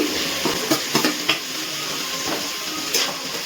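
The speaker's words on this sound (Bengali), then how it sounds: "সব কিছু ভালো করে মিশিয়ে পেঁয়াজকলিটা একটু কিছুক্ষণ নাড়াচাড়া করে নেব।" Chopped spring onions and tomato are stirred in a frying pan, a steady sizzle with spatula scrapes and light clinks against the pan recurring through the clip.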